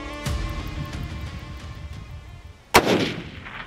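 A single loud rifle shot cracks out near the end during a Colorado mule deer hunt, with an abrupt sharp onset and a short rumbling tail over quiet outdoor background noise.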